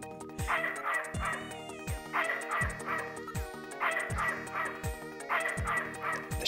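Dog barking in the video game Snatcher: repeated short barks and yips in a steady rhythm over a looping synthesized music track, fairly loud throughout.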